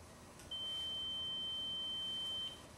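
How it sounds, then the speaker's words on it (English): A pure test tone, a single steady high-pitched sine beep, sounds alone over faint background hiss for about two seconds, with a clean start and stop. "So here's a tone."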